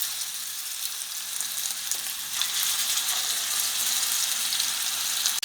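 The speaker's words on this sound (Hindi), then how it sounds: "ये अभी कबाब फ्राई हो रहे हैं" Chapli kebabs frying gently in oil in a pan over low heat, a continuous close hissing sizzle that swells slightly partway through, with no voices.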